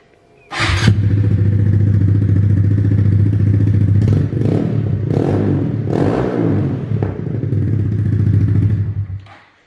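2020 Honda Grom motorcycle with a cheap aftermarket exhaust, started and idling close up, a loud, steady low thumping burble with a few throttle blips before it cuts off.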